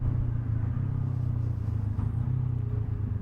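Honda NX500 motorcycle being ridden, a steady low engine drone with slight fluctuations as it moves through gears, no voices over it.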